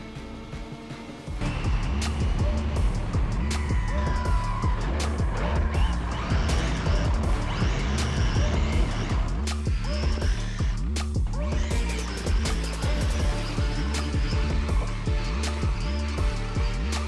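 A BMW on-road RC car on a 3S battery drives and drifts nearby, its electric motor whining continuously with rising and falling revs and brief tire squeals, no talking over it.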